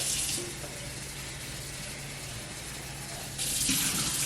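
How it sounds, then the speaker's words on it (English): Water runs from a sink tap while a lye cup is rinsed during soap making, a steady hissing stream that briefly softens as the cup interrupts the flow, then returns fuller near the end. "I like to go ahead and rinse it out and put it off over there in the sink"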